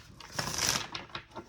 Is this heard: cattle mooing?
no